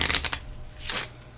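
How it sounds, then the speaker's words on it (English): A deck of Twisted Fables board game cards is shuffled up close. Crisp riffling bursts come at the start, then a second sharp burst follows with no voices. "I want to shuffle, make sure I put all those poison cards at the bottom."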